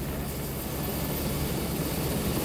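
A helicopter's engine and rotor drone steadily and loudly, a constant low rumble with a broad roar over it, unbroken throughout.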